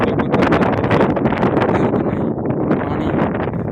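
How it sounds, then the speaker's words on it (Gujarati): Strong wind at the overflowing Umariya dam in Gujarat buffets the microphone, producing loud, continuous rumbling gusts that rise and fall throughout. "પવન વધારે આવતો હશે એટલે મારો અવાજ તમને થોડો ઓછો સંભળાતો હશે"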